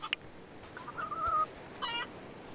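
Chicken clucks from a pen in the farming game Dinkum: a short cluck near the start, a drawn-out tonal call midway and another brief squawk near the end, fairly close against a quiet background.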